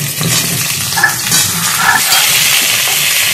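Pointed gourd (potol) fries in oil in a pan while being stirred. The sizzle is loud, close and steady, with soft scraping movements running through it.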